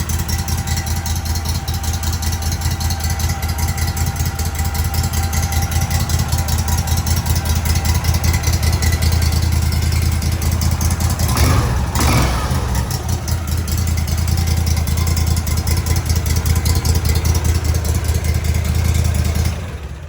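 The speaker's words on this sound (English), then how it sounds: "I got a Gator Tail 40XD, which I love. I'll go ahead and crank that up so you guys can hear that." A Gator Tail 40XD mud motor on a custom boat runs hard in a loud, continuous roar that keeps an even pitch nearly throughout, with a brief rise around the middle.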